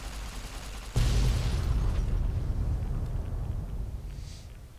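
Explosion from a laser detonator in the video game Fallout New Vegas, a sudden loud low boom that rolls into a long rumbling decay lasting several seconds, with no talking.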